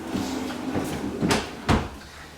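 A wooden drawer in a bench built into a renovated trailer slides open, giving a couple of short rolling rumbles and soft knocks over steady room noise, with no one talking.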